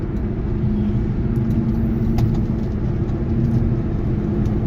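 Idling engine of a Chevrolet Corvette C5, a steady, close low rumble with an even tone and no revving, running alone.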